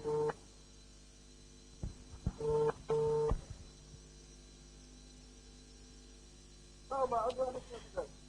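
Telephone keypad tones beep in short clustered bursts as a number is dialed to call someone back, with quiet gaps between groups over a low hiss during a radio program.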